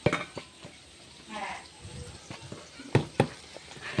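Fish fries in a pan with a soft, close sizzle. Intermittent utensil clinks and scrapes sound against the pan. No one speaks.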